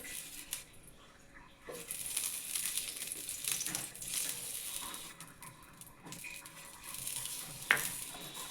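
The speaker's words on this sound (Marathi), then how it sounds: "आपला पॅन आता तपलेला आहे चला आता आपण त्याला तेल लावून घेऊ आम्ही गाजरनेच तेल लावतो" A hot dosa pan being greased with oil using a carrot, giving a soft close sizzle with light rubbing and scraping strokes and one sharper clack near the end.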